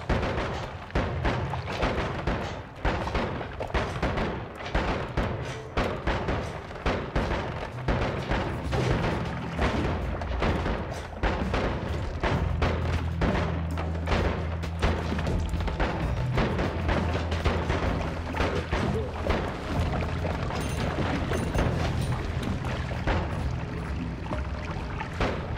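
Shotgun blasts in the video game Noita, loud repeated booming shots over a dense, continuous roar of game effects, with some low humming tones in the middle.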